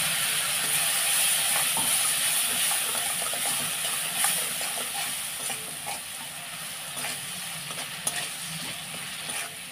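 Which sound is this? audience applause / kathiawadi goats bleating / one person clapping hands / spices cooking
spices cooking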